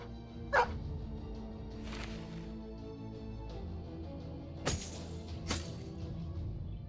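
A war dog barks in the medieval tactics game Battle Brothers, giving a few sharp yips over a steady low game ambience.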